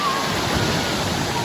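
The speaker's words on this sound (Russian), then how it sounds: "Огромные волны!" Large sea waves surge and wash in a dense, roaring rush of surf at a beach, steady and loud with no break across the short stretch.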